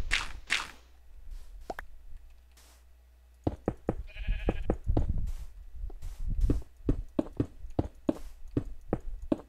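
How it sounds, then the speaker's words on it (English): Sheep bleating in the Minecraft video game, a short nasal bleat among scattered clicks, taps and blocky in-game thuds, moderately close with no talk. "Damn sheep."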